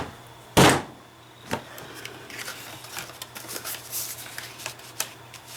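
One sharp, loud thud of a paper punch followed by softer knocks, clicks and rattles as the unsteady table shifts, close and without speech.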